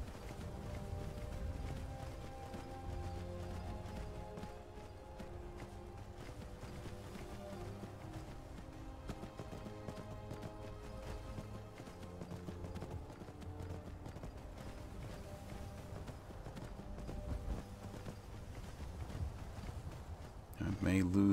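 Horse hooves clip-clopping steadily while riding through winding terrain in the game Skyrim, a continuous rhythmic beat under a layer of music and game sound.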